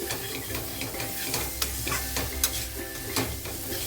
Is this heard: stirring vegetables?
yes